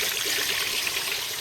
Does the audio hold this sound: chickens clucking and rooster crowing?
no